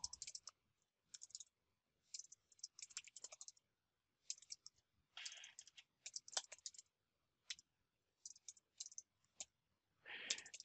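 Keyboard keys clicking in short bursts of typing at a computer while building an interactive form page, fairly quiet and close, with brief pauses between runs of keystrokes and no talk.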